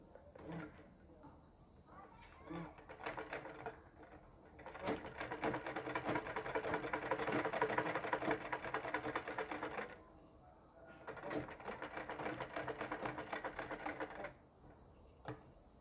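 Sewing machine stitching fabric for a ladies' sleeve design, running in two bursts of rapid rhythmic clatter separated by pauses, with someone speaking quietly in the gaps.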